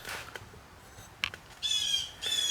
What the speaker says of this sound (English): Go away, bird. The screech bird.